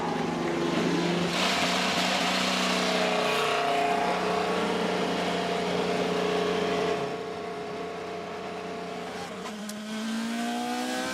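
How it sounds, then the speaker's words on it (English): IndyCar race car engines fire up together on the grid at Road America's XPEL Grand Prix, a loud, dense drone of several engines idling and revving that dips briefly, then climbs in pitch at the end. "Drivers, start your engines!"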